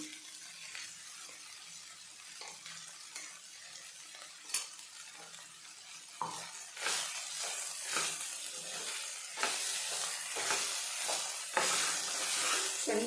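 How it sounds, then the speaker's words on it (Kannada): Ground masala fries in a pan with snakegourd, a quiet sizzle swelling into louder hissing bursts as it is stirred, with scattered scrapes of a spoon against the pan. "ನಾನು ಮಾಡಿರೋ ಮಸಾಲೆನ ಹಾಕಿ ಒಂದ್ಸಾರಿ ಚೆನ್ನಾಗಿ ಫ್ರೈ ಮಾಡ್ತೀನಿ"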